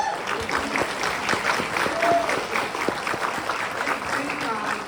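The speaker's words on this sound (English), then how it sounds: "to give a big round of applause to Dr. Potter" Steady applause from an audience at a medical school presentation in Fort Lauderdale, a dense even patter of many hands clapping at full strength throughout, with no talk over it.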